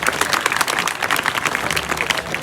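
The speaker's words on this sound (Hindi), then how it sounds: "इसके लिए जोरदार ताली बजाओ।" An audience claps loudly in a dense, continuous burst of applause at a lively gathering, the crowd's hands ringing out close and steady throughout.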